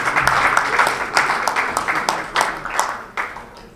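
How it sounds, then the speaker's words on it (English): Audience applause for designers at a Durban July media launch, a moderately loud spread of clapping with distinct individual claps that thins out over a few seconds. "another big round of applause to the designers"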